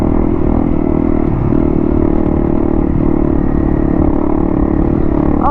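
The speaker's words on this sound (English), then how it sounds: "here's a little bit of a steeper hill climb coming up. Let's see how the bike handles it." Honda 300 Rally motorcycle with a performance kit climbing a steep off-road hill, its engine droning loud and steady with rattling and clatter from the bike, no speech.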